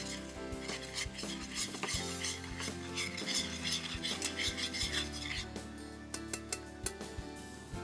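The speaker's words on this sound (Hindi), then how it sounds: "और चीनी डालने के बाद इसको अच्छे से मिला लेंगे।" Custard powder and sugar being stirred together in a metal bowl with a spoon, giving close, rhythmic scraping and clinking strokes that repeat steadily, with no talk over them.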